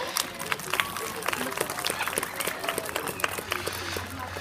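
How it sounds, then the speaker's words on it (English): At a safari park bird show, the audience applauds the birds Wilma and Merlin, scattered clapping from a moderate crowd, uneven and somewhat thin, over a low background hum. "I think they deserve a nice big round of applause."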